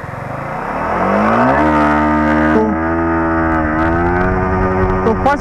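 A 60th Anniversary Edition Yamaha R15 motorcycle accelerating at full throttle through the gears, a loud close engine whine rising steeply in pitch, dropping at a gear shift and climbing again.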